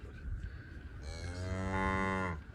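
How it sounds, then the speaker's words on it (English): A cow moos once on a farm with cows and calves, a long rising low bellow starting about a second in and lasting over a second, close by over faint background rumble. "These cows and calves."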